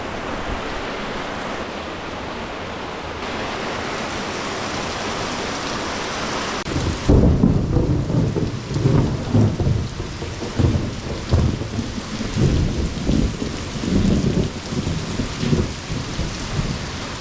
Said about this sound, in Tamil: பார்த்தா மழை அடித்து பொழியுது.